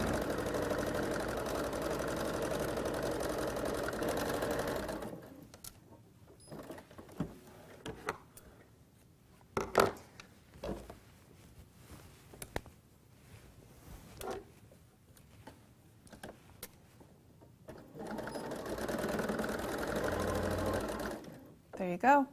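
A sewing machine stitches the side seams of a pair of pajama pants in two steady whirring runs, with a quiet stretch of clicks, handling and a voice talking between them.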